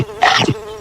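A housefly buzzes close by around food outdoors, one short loud pass standing out against a quiet background.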